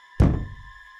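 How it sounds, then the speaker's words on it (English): A single door slams once somewhere overhead in an abandoned hospital, a dull, muffled thud with a short rumbling decay, against a faint steady hum. "Somewhere above, a door slammed faintly."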